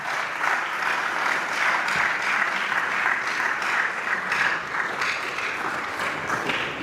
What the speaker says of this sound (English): Let's continue to clap for him